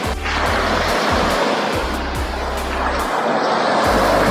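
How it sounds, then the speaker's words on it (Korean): Ocean waves wash onto Songjeong beach in Gangneung as a broad, continuous rushing roar, mixed with low, gusty rumbling from wind buffeting the microphone. "오늘은 파도가 조금 있는 편이에요."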